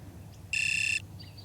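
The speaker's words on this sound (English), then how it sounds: "So that beep there was on the Mini 2." A Garmin inReach Mini 2 satellite communicator gives one short, clear electronic beep lasting about half a second, with a rapid pulsing flutter, sounding alone against a quiet room.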